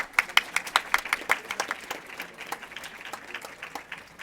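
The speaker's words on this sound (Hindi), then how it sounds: "जोरदार तालियां।" An audience applauds a quiz team being awarded a medal for second place, the claps starting as distinct, fairly sparse claps before turning into a softer, diffuse patter.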